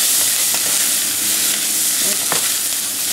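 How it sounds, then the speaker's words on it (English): Spices fry in a saucepan over high heat for a whole snapper curry, a dense, loud, continuous sizzle with a few faint scrapes of stirring, close up and with no talk. "our spices have been cooking for about a minute"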